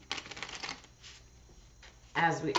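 Tarot cards shuffled in short riffling bursts, one flurry early, faint rustles in the middle and a louder, closer burst near the end.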